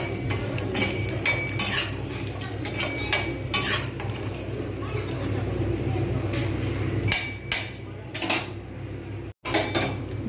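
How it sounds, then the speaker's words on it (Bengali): Lentil badi fry in refined white oil in a frying pan, with a steady low sizzle under repeated clinks and scrapes of a spatula against the metal pan, close and continuous. "বড়িগুলো ভালোভাবে ভেজে নেবো, সুন্দর লাল করে ভেজে নেবো"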